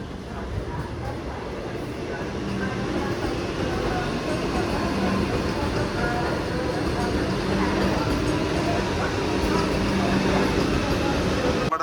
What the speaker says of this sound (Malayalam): തൃശ്ശൂർ സ്റ്റേഷൻ 1ാമത്തെ പ്ലാറ്റ്ഫോമിലേക്ക് വന്ന് കയറിക്കൊണ്ടിരിക്കുകയാണ്